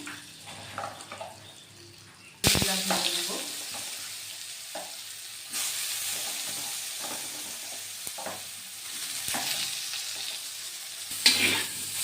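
Soybean chunks sizzle in hot oil with turmeric and salt while being stirred, with scraping and clattering strokes over a steady frying hiss that grows louder after a sudden start.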